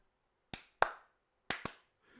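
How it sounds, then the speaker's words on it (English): Four sharp, deliberate hand claps sound close and loud, spaced slowly with brief silence between them, the last two coming quicker before faint sound resumes. "Slow clap."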